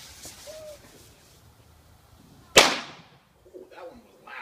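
A New Year's Eve firework explodes outdoors as a single loud, sharp bang that rings out briefly after a quiet stretch, followed by faint voices.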